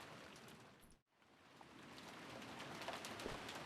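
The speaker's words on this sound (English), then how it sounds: "All that filled the room was the sound of the wind and the rain and the rustling of treetops" Rain and wind ambience in the Umineko visual novel video game, a steady hiss of falling rain with a brief dropout, then swelling back with gusty wind and faint patters.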